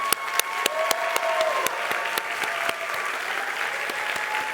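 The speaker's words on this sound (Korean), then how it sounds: "박수 해주시겠습니다" A church congregation at Galilee Church's Sunday worship applauds new members after their vows, steady crowd clapping with crisp individual claps over faint sustained musical tones, lasting several seconds.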